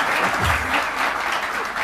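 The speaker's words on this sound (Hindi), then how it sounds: "पहले बजाएं तालियां." A studio audience on a Weekend Show talk program bursts into brief, dense applause, a close and fairly loud wall of clapping that lasts under two seconds.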